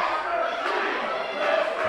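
A crowd at an independent pro wrestling match roars and chants, a dense, loud wash of voices with shouts rising and falling, heard close and without a break.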